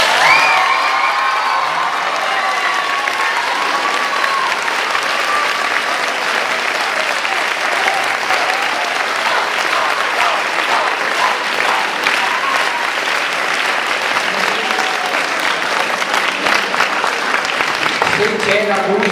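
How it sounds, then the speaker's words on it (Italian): Audience applauding at length for Don Floriano at a Notte di note 2012 stage concert at the Barbarigo, a dense, steady wash of clapping with scattered cheers and a few voices in the crowd. "voglio l'applauso più grande per Don Floriano"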